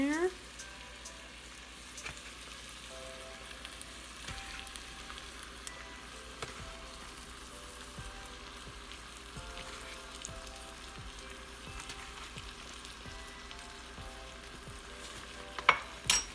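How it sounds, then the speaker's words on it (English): Butter and flour roux stirred constantly in a pan, a steady low sizzle broken by regular scraping strokes of the spoon across the pan bottom, close and continuous with no talking. "And you have to stir this constantly until a nice roux, I guess, forms."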